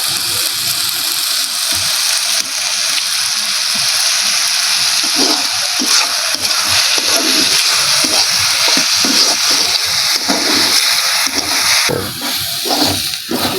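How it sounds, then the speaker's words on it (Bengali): Potatoes fry in a pan for a home-cooked meal, giving a steady loud sizzle with scattered scraping and stirring knocks throughout, close by with no talking. "আলু ফ্রাই হয়ে গেছে ভাজা।"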